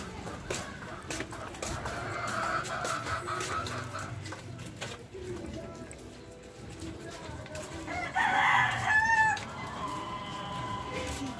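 Chickens cluck in the background over outdoor ambience, and a rooster-like call rises clearly near the end.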